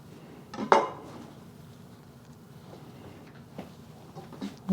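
A knife slices a soft avocado on a kitchen board for a Chinese chicken salad, with one sharp clack near the start followed by faint, sparse taps and soft scrapes in a quiet room.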